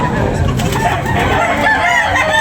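A rooster crows amid the dense, loud din of a crowded rooster market in Tabunok, Talisay, Cebu. People talk and bustle steadily around it.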